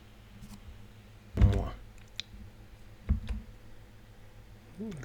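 Computer mouse clicks during a VB.NET programming lab session: a few sharp, close clicks separated by pauses, against a quiet room background.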